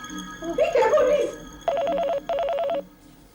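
A telephone call placed in an Indian TV drama, with a brief burst of dialing followed by two steady, loud electronic ringback tones in quick succession, then quiet.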